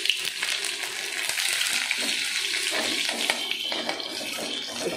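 Garlic, cumin and dried chilli spluttering in hot oil as a tempering for dal, a dense, continuous close sizzle with crackling pops, fairly loud and without any talking.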